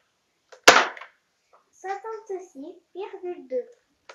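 Nerf Retaliator blaster firing a single loud, sharp shot near the mic, followed by someone talking.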